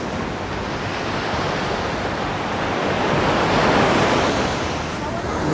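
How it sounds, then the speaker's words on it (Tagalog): Strong surf pounding at the Tibu tidal pool on the Casiguran coast in Aurora, the Philippines, a steady loud roar of breaking waves swelling midway, with wind buffeting the microphone. "Tingnan guys, gano'n kalakas ang alon."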